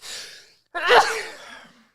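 A faint breathy intake is followed by one loud, close sneeze that tapers into a soft exhale.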